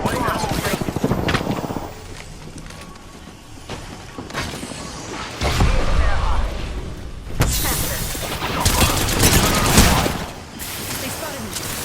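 Rapid bursts of gunfire and booms from a battle in Apex Legends, with clustered shots and mechanical clicks swelling and fading in loudness, alongside a voice talking over the action.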